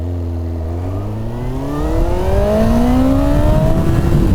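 A Kawasaki 900cc sport motorcycle engine revs up loudly and close, its pitch climbing steadily as it accelerates toward the high end of the rev range.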